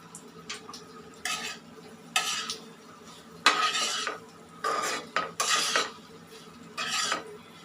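Fish bhaji stirred in a pan over high heat, a series of loud, rhythmic scraping and clattering strokes of utensil against metal over a low sizzle, about eight bursts with short pauses between.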